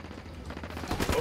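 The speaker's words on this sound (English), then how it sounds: "Those Sicarios are shooting the hell out of this emitter." Sicarios fire guns in the video game Ghost Recon Wildlands, a brief, fairly faint burst of rapid gunfire that grows denser and louder toward the end, heard from a distance.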